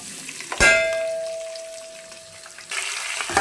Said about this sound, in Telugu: కొంచెం ఆయిల్ వేసుకున్నాను. ఇప్పుడు ఇందులోకి పోపు దినుసులు వేసుకోవాలి, అలాగే ఎల్లిపాయలు